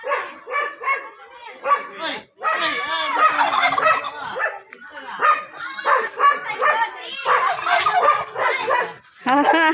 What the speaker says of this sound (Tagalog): Ang dami pabo.